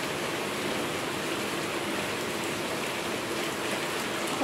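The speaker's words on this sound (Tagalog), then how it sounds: "Kaya nga, umuulan din." Rain falls steadily as a dense, even hiss, loud and close, with no talking.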